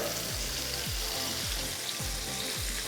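Chicken fries in hot oil with a dense, steady sizzle and crackle that stays loud and continuous throughout, heard close up under a faint repeating low hum.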